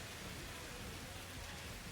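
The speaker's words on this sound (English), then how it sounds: "I set my weather settings to have rain as like frequent as I possibly could" Steady rain falls in the Satisfactory factory-building game, a soft, even hiss of drops on surfaces that runs unbroken and fairly faint, with no voices.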